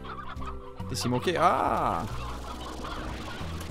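Chickens in the Slime Rancher video game cluck in short bursts with a rising squawk, heard over game music while a person briefly talks.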